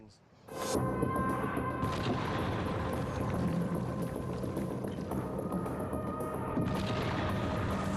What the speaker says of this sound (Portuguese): Minha nossa, que explosão!